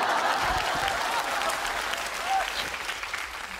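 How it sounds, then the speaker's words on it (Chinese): Neighbours clap in steady, dense applause at a domestic comedy scene, a short burst of many hands that fades slightly toward the end. "还街坊邻居还鼓掌呢。"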